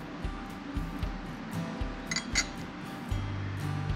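Drinking glasses clink together in a toast, a few bright, close taps over low background hum and music.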